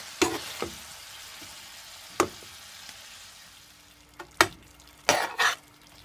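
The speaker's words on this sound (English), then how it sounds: "I'm gonna also add my broccoli and stir it" Beef and broccoli sizzle softly in a pan, with a few sharp stirring clanks and scrapes scattered over a low, steady frying hiss.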